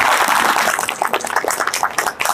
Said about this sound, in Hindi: मैं चाहूंगा कि IMC और श्री तुलसी के लिए एक जोरदार ताली हो जाए